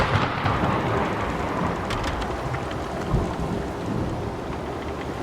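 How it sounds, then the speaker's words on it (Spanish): A thunderstorm with steady rain and rumbling thunder, a dense continuous wash of rainfall with low rolling booms and a sharper crack midway, heard alone without talk. "una tormenta se desató con una ferocidad que mi abuelo nunca había visto antes"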